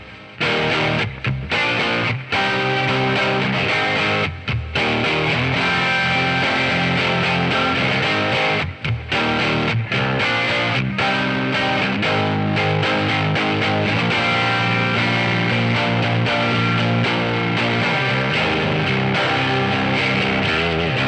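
Squier J Mascis electric guitar tuned to C standard, played clean without overdrive through two amps: a continuous full-bodied strummed passage, loud and sustained with brief pauses between chords.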